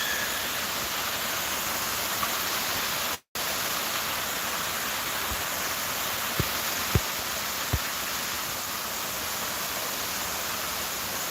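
Heavy rain pours steadily and loudly, a dense unbroken hiss with a few soft drips and taps breaking through near the end, no voices over it.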